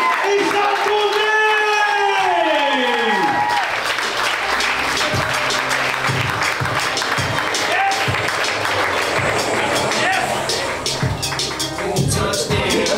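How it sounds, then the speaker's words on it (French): A large live crowd of about a hundred people at a podcast taping bursts into sustained applause with cheers and whoops, dense and loud throughout after a brief opening of voices and music. "Une bonne main d'applaudissement pour mes deux candidats, Julien Roux et Charles Côté!"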